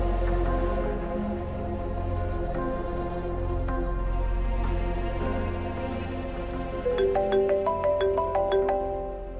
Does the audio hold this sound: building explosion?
no